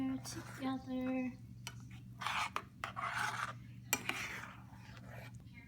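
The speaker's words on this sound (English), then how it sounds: "Go ahead and add your salsa verde to your meat. And then mix it all in there together." Salsa verde being stirred into meat for chile verde: intermittent rasping, scraping strokes of a utensil against a pan, with a faint voice briefly at the start.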